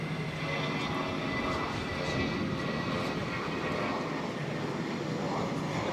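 A United Airbus A320 at Boston airport gives a continuous loud, steady jet engine roar that fills the whole stretch without a break.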